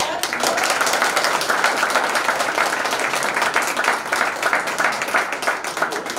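Audience applause at a talk on emotional intelligence at the Bhopal Literature & Art Fest, dense steady clapping from a crowd lasting throughout.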